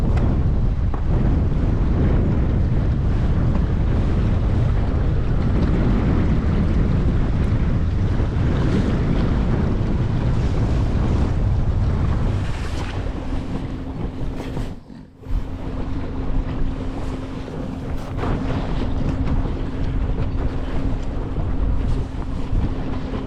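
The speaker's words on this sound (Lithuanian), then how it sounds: "vėjas šiandieną apie 12 metrų šiaurės pusės" Strong north wind of about 12 metres per second blows across open water while fishing for pike from a boat, with loud, steady buffeting and the continuous wash of waves throughout, and no talking.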